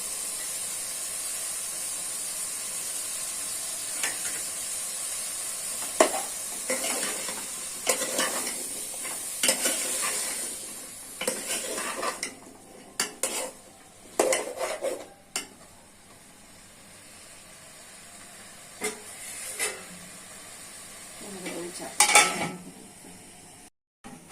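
Vegetables with spices and onion fry in a pan while being stirred, giving a soft continuous sizzle broken by irregular scraping and clattering bursts of the spoon, close up, with no speech.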